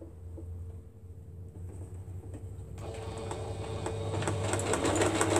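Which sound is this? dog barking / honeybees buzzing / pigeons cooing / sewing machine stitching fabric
sewing machine stitching fabric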